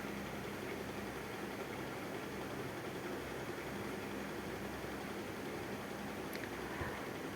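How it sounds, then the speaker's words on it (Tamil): A mixer grinder whirs steadily as it grinds sautéed coriander leaves into a fine paste, a continuous, fairly faint motor drone with no break. "மிக்சர் ஜாரில் போட்டு நல்லா ஃபைன் பேஸ்ட்டாக கிரைண்ட் பண்ணிக்கோங்க"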